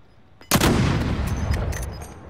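Gunfire in an online battle royale shooter: a sharp, loud shot bursts out, then a rapid run of reports keeps going, close and heavy, with no talk over it.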